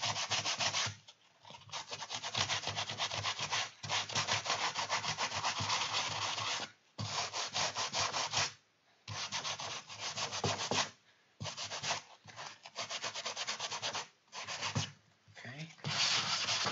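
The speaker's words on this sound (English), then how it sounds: "Sanding sponge." Long runs of brisk, rhythmic hand sanding with a sanding sponge over plastic, with brief pauses between bursts, close and continuous.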